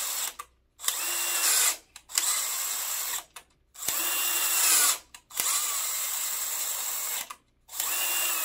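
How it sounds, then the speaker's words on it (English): A power drill bores into an iron LS engine block with a size H bit, in four or five loud whining bursts separated by short pauses. "This drill bit that we're using here is a size H"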